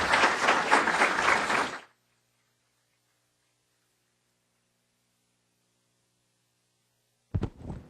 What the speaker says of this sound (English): So let's give a round of applause to James Endicott